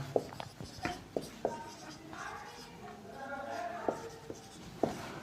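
Chalk or marker writing on a board during a Class 10 maths lesson on polynomials, heard as a run of close, sharp taps and short scratchy strokes.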